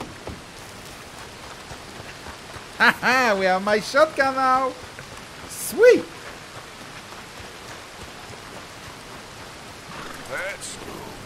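Steady rain in the video game Red Dead Redemption 2 hisses throughout as a soft, even wash, while a person talks briefly over it.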